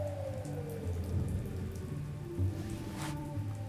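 Rain falls steadily in a short film's final sound mix, a dense wash of drops layered over low tonal music and a faint downward-sliding tone, continuous and moderately loud throughout.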